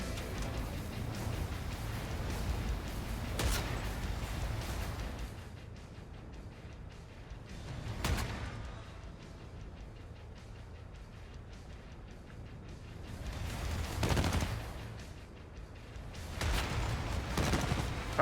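Missiles launching in the game Wasteland, a series of loud whooshing blasts spaced several seconds apart, each a broad rushing burst that fades, over a rumbling mechanical background.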